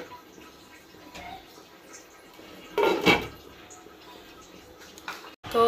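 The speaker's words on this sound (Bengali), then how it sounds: "এখন আমি এটার মধ্যে ঢাকনা দিয়ে ঢেকে দিব।" A metal lid clanks down onto a cooking pot on the stove, one brief ringing clatter midway through a quiet kitchen background.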